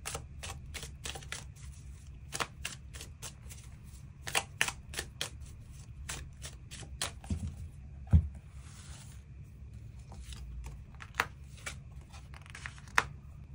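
Tarot cards are shuffled for an extra card draw: a quiet, close run of sharp riffling snaps and flicks in irregular bursts, with no talking.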